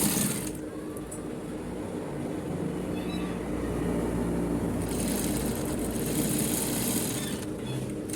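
Sewing machine stitching a double welt pocket on a suit, running steadily and close for several seconds with a continuous mechanical whir and a rapid needle patter.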